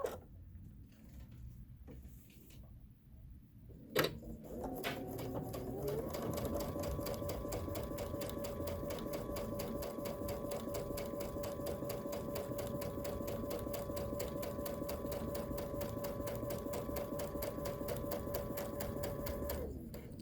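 A sewing machine stitches along the sides of patchwork pillow fabric, starting after a brief clunk and then running at a steady, close, rhythmic whir for the rest of the time with no talk.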